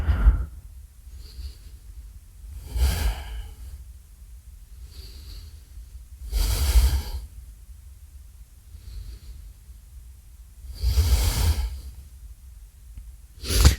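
Someone holding a yoga plank breathes deeply and audibly, taking three full breaths. Each one is a loud, rushing inhale or exhale separated by quieter pauses of several seconds, close up, with no talk.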